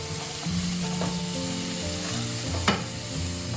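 Onion hitting hot oil for a dal tadka, a steady close sizzle and fry with faint stirring, loud and continuous with no talk.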